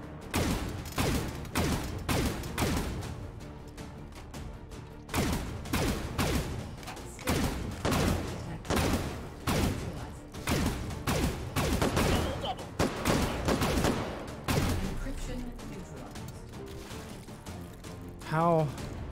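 Several guns firing at different rates in the VR shooting game H3VR, with bursts of rapid automatic fire mixed with single shots, loud and close, while someone talks over much of it.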